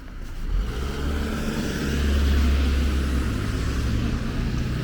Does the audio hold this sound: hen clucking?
no